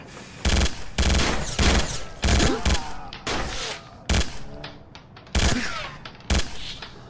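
Rapid automatic gunfire rattles in loud, repeated bursts of about a second each, separated by short pauses, in the Sierra 7 shooter video game.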